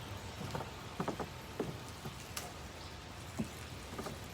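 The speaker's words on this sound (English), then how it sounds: "This is the rainy season, so we get a lot of rain." Soft, steady rainy-season rain pattering with scattered heavier drips and taps, fairly quiet and continuous with no voices.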